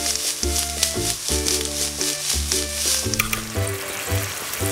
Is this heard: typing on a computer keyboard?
no